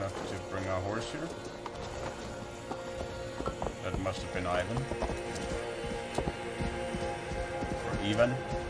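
Horse hooves clip-clop in Assassin's Creed Valhalla, a steady muffled trot under ongoing game ambience while someone talks over it.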